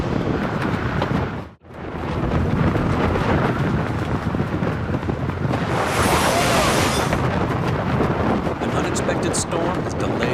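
Storm wind battering a tent high on Mount Marum, a loud, continuous roar with gusty flapping and rumbling that drops out briefly near the start, then swells again with a harsher hiss midway.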